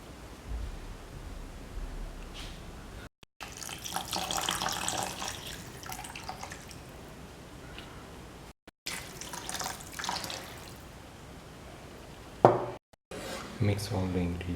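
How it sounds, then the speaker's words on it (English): Water, 600 ml, is poured into a cooking pot for a mutton coconut milk stew, making a continuous close splashing rush broken by a few short pauses, with faint voices in the background. "Pour in 600 ml of water."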